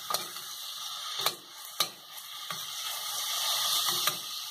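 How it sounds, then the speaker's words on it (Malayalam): Sliced onions fry in hot coconut oil for a roasted-coconut chicken curry, making a bright, steady sizzle. Sharp scraping stirs cut in at intervals, and nobody speaks. "അതിലേക്ക് നമുക്ക് സവാള ഇട്ട് കൊടുക്കാം. നന്നായിട്ടൊന്ന് ഇളക്കി കൊടുക്കുക."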